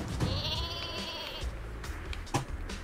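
Super Sheep in a Worms video game bleats in a series of loud, wavering cries under busy game sounds, with a few thumps near the end.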